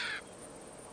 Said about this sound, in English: That's a Caspian tern call you're hearing.